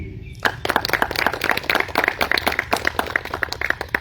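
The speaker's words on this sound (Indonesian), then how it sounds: "Berikan tepuk tangan pada Ibu Eni" Audience at a school farewell ceremony for SMP Bina Taruna Surabaya breaks into loud, crisp clapping after a short pause, many hands striking in quick irregular bursts that hold steady to the end.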